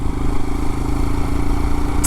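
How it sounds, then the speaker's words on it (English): A Royal Enfield Himalayan motorcycle engine runs steadily nearby with a low, even throb and no speech, ending in a brief high click. "the bike is actually running better than ever"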